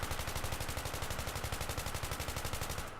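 Sustained rapid automatic fire from an assault rifle in the video game Battlefield 3, a loud, evenly spaced burst of shots that stops just before the end.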